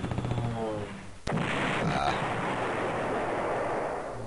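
Units firing together in a Panzer General attack, a single sharp blast followed by a long rolling rumble of explosions that fades slowly, with a voice speaking just before.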